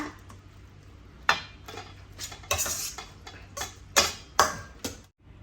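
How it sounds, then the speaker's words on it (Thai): A spoon works through sticky rice soaked in coconut milk in a bowl, giving a series of irregular sharp clinks and scrapes against the dish, close and fairly quiet, with no talking. "ใช้ช้อนคนข้าวเหนียวให้ผสมกับน้ำกะทิให้ทั่วค่ะ"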